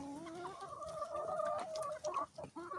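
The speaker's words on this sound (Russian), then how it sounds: "Высокий петух." A rooster clucks and calls in a series of short, warbling vocalizations, fairly faint and close, with no people talking.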